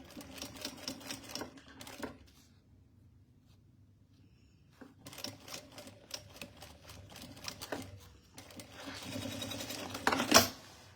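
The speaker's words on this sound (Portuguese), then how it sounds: "E bora lá fazer a costura da alça." Domestic sewing machine stitching the strap of a fabric pencil case, fitted with a size 14 or 16 needle: rapid mechanical clatter in bursts, stopping and restarting, close and fairly loud.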